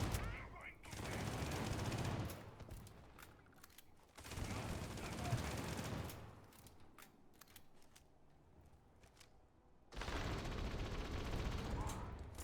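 Rapid bursts of gunfire from a quest weapon in a video game, three loud, sustained volleys of fast automatic fire separated by quieter gaps with faint background game noise.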